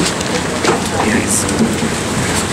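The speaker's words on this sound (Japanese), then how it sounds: "下船しましたけど大雨です。" Heavy rain pours steadily in Fukuoka on arrival at the port after leaving a ferry, a dense, continuous wash of drops with no let-up.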